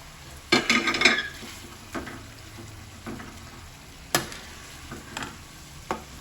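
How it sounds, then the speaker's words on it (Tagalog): Fried eggplant being stirred into pork binagoongan in a pan, with scraping utensil strokes against the pan over a soft background sizzle, a cluster of strokes early and scattered single clinks afterward. "lagyan na natin tong talong natin na pinirito kanina"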